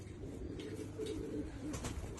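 Tola and patti pigeons, a pair kept by a fancier, coo softly and close by in a quiet setting, a short low murmuring call repeated a few times.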